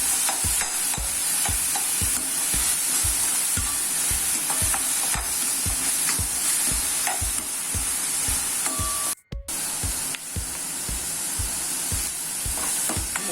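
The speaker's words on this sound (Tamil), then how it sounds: "ஃப்ளேமில் வச்சு வதக்கி விடுங்க. இது நல்லா வதங்கி எண்ணெய் பிரிஞ்சு வரணும்." Ingredients sautéing in oil for Tamil vatha kuzhambu, a continuous close frying hiss with regular rhythmic scraping strokes of a ladle against the pan, broken briefly by a short silent gap near the end.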